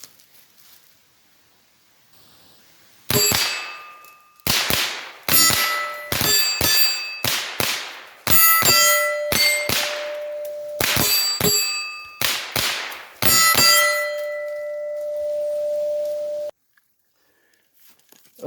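Rapid pistol-style shots fired at a steel mini IDPA silhouette about 8 yards away on a CQB range. Roughly a dozen sharp, loud cracks come in quick clusters, each followed by a ringing metallic clang from the target.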